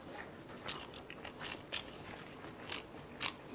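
Crisp, crunchy bites into fried chicken skin from old-style whole fried chicken, close and loud, with several sharp crackling crunches spaced irregularly over soft chewing.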